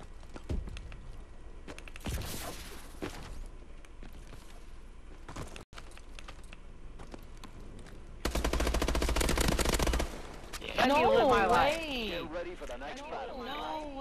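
Bursts of automatic gunfire in a Call of Duty match crackle intermittently, with one sustained loud burst midway, over game ambience, and voices talking loudly over the shooting toward the end.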